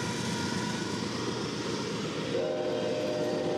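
Norfolk Southern NS268, an eastbound intermodal freight train, rumbles past at Anvil, Pennsylvania, a steady broad roar of wheels and cars running loud and close throughout, with a faint tonal horn-like note rising near the end.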